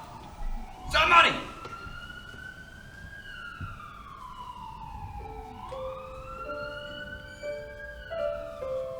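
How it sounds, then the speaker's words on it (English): An emergency siren wails in long rising and falling sweeps, then shifts to a faster two-tone pattern, heard at moderate distance with a brief burst of noise near the start. "Somebody call an ambulance!"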